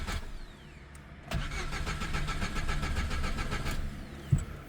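A car converted from petrol to methane gas cranks and catches after a quiet start, then settles into a steady, fairly loud idle that runs close by until it cuts off near the end with a bump.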